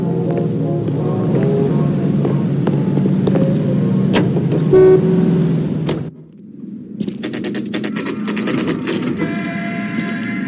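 Car driving in L.A. Noire: a steady, loud engine drone with a few brief tones on top, shifting to a thinner, quieter hum midway and then building again.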